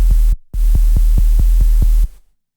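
Soloed synth sub bass sine wave with no effects, a deep steady low hum pulsing in regular throbs, briefly dropping out near the start, then sustaining loudly before stopping abruptly.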